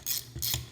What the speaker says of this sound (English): the switch makes a good sound